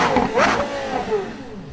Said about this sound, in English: the Carrera GT did exactly that. Its sound is insane.